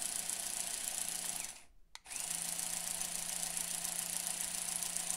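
A small electric motor whirs steadily as it drives the pistons of a CaDA Master C61054W articulated dump truck model, a close, thin mechanical hum that cuts out briefly before resuming, with no voices.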